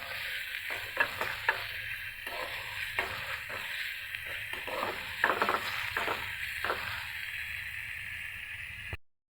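Onions, fresh chilies and dried chilies fry in soybean oil for potato bhaji, with a continuous sizzle broken by rhythmic scraping strokes of a spatula stirring the pan, close and unaccompanied by speech.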